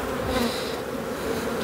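A dense, continuous buzz of many honeybees swarming close by at an open hive, steady and humming without pause.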